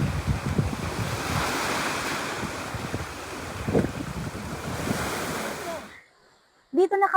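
Rough surf at Virgin Beach roars continuously with wind buffeting the microphone, loud and close, before dropping away into near silence and then a short burst of talk at the end.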